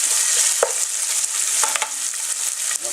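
Beef paprika sizzling in a pan, a loud, steady hiss of frying with a few sharp scrapes and taps as the spoon stirs through the onions and fat, close up and without talking.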